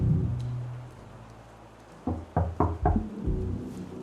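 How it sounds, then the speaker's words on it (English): Knocking on a door in the video game Rue Valley: four loud, close raps in quick succession after a quiet stretch of low ambient hum, with no speech. "Let's try knocking."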